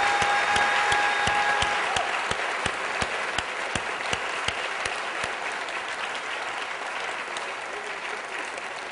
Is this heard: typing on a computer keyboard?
no